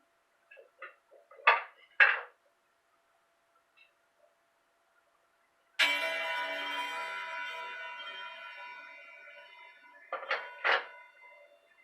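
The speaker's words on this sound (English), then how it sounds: "Clock chime." A mantel clock gives a few soft mechanical clicks. Then a single resonant chime strikes and rings out, slowly fading over several seconds. Quiet close clicks follow, with near silence in between.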